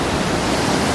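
A steady, loud rush of river water flowing in Kasol, Himachal Pradesh, India, a dense broadband roar with no breaks and no voices.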